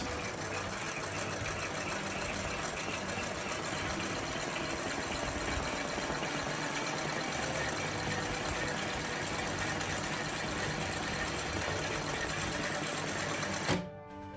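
An industrial Singer 20U sewing machine running a straight stitch, a fast, steady mechanical whirr and needle rattle sustained close up for nearly fourteen seconds before stopping abruptly.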